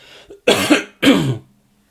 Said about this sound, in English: I'm just gonna little cough, sorry